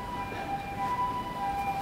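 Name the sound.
ambulance siren passing by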